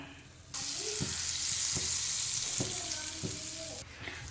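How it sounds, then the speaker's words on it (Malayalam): Butter hitting a hot non-stick pan for French toast, setting off a sudden bright, steady sizzle that holds for a few seconds over soft clinks and taps, then cuts back abruptly near the end, with no talking. "ഞാനിപ്പോൾ ആദ്യത്തെ ബാച്ചിൽ കുറച്ച് ബട്ടർ ഇട്ട് കൊടുക്കണം"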